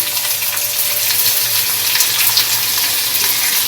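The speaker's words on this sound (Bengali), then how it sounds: "সেই পেঁয়াজটা আমি ভেজে নিচ্ছি।" Chopped onions, cut medium-fine, fry in hot oil with a steady, loud, close sizzle and crackle that runs unbroken throughout, with a faint low rumble beneath.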